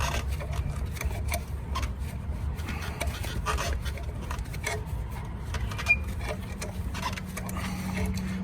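A tool compresses the rear brake caliper piston of a BMW E92 M3 with StopTech pads, producing a steady, close grinding rasp that runs without a break.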